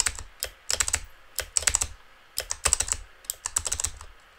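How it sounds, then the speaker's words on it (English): A mechanical keyboard clicks rapidly while someone types during Terraria play, with bursts of sharp, close keystrokes separated by short pauses and no voices. "I have a mechanical keyboard"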